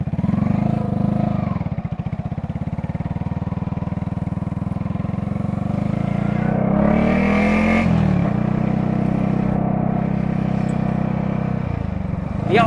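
A car's loud exhaust roars steadily throughout a test drive, a deep, close engine drone with rising and falling revs and a brief surge midway.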